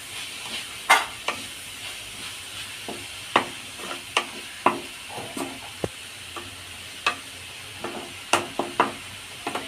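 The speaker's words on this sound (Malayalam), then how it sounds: "നന്നായിട്ട് മിക്സ് ചെയ്ത് കൊടുക്കാം" Food is mixed in a cooking pan, the spoon knocking and scraping against the metal in irregular clinks every second or so over a steady low sizzle, close and moderately loud.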